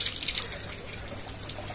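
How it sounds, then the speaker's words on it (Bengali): Rainwater drips and trickles at close range, with irregular splashy patters and no voices. "বৃষ্টির পানি।"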